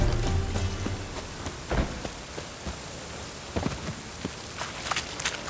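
Steady rain hiss fills the scene in The Witcher 3: Wild Hunt, with scattered sharper drops and occasional soft thuds, and a low rumble fading early on; no one speaks.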